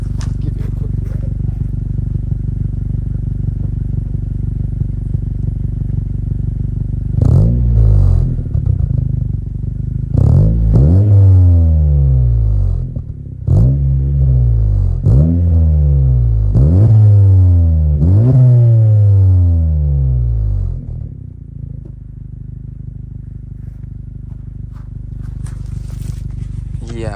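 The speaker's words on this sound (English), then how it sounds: "Give you a quick rev." A 2021 Civic Hatchback idling, then revved five times in a steady rhythm, each rev climbing sharply and falling back, loud and close, before settling to a low idle.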